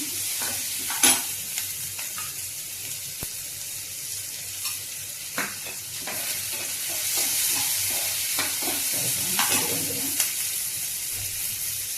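Garlic and onions frying in oil for a spinach curry, a steady bright sizzle with intermittent scraping stirs and clinks of a utensil against the pan, close and moderately loud, no talking.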